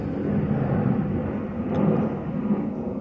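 A fixed-wing airplane passes overhead outdoors during bonsai work on a Japanese maple and Chinese elm, a steady broad low rumble that holds at moderate loudness throughout, with no talk.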